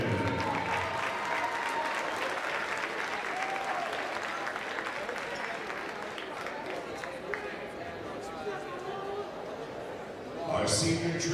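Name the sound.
applause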